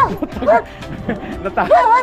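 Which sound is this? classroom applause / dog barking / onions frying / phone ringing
dog barking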